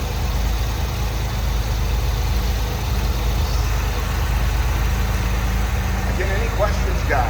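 A 1982 Chevrolet Citation X-11 with a newer battery idles at a steady, low mechanical drone that stays continuous and even throughout, while someone talks nearby.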